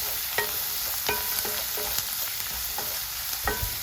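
Chopped tomato and grated carrot frying in a pan for bread upma, a soft steady sizzle broken by repeated light clicks and scrapes of a stirring spoon, with no voices.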